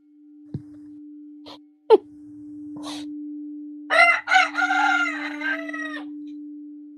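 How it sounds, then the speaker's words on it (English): A rooster crows once, loud and fairly close, with a long wavering call, after a few soft knocks and a low steady hum that runs through the whole stretch. "As you listen to the bowl and you hear my rooster"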